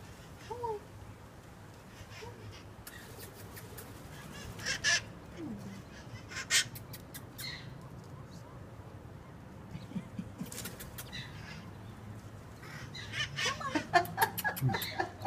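Wild parrots calling around San Francisco, loud harsh squawks bursting out repeatedly at intervals and clustering near the end, over steady low outdoor rumble while a person talks nearby.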